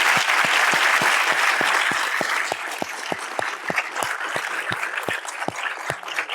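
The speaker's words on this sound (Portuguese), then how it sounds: "Uma salva de palmas." Audience applause fills a conference hall after a talk on Brazil–US relations: a loud, dense clapping that holds steady, then eases slightly toward the end.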